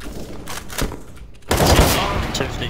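Gunfire in CS:GO: a sharp shot near the start, then a loud, dense burst of rapid fire from about halfway that fills the rest of the moment, with faint background voices.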